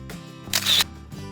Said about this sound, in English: press the shutter at the same time with the shutter remote control